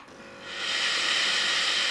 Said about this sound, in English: Hold the iron vertically, tilting it slightly forwards, press the steam button